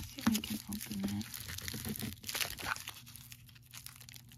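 Crinkly plastic tearing and crumpling sounds, close up and in bursts, with a voice talking over parts of it.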